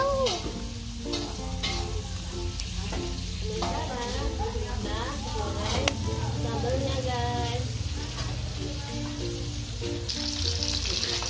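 Fish, two pieces laid head to tail, sizzling and frying steadily in a pan, with a continuous crackle throughout and a voice talking now and then over the cooking.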